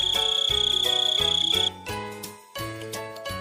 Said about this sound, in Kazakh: Шегіртке.